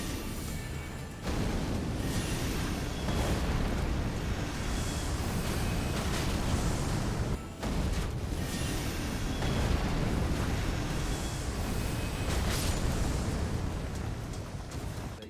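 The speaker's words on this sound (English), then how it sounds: "Now we go to our assassination target and easily eliminate him with some timed bombs." Timed bombs going off in the Elden Ring video game, a dense, continuous roar of booming blasts and rumbling detonations, loud and sustained with only a brief break partway through.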